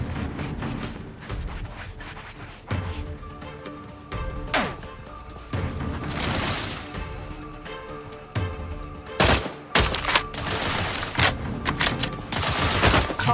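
Gunfire in the video game The Outer Worlds 2 rattles in dense, loud bursts, with sharp impacts and crashes among the shots over a busy combat din that builds toward the end.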